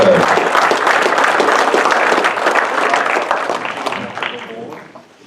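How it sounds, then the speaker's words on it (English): Banquet audience at a motorsports park awards night applauds for Phil McNary III, a dense, loud burst of clapping that holds steady and then tapers off near the end. "Big round of applause for Phil McNary III"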